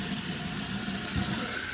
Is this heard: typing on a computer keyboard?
no